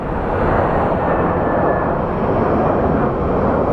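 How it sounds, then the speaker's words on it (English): A small airplane passes at Phoenix Sky Harbor International Airport, heard as a loud, steady broadband engine roar that fills the clip without pause and with no talk. "Adios, small plane."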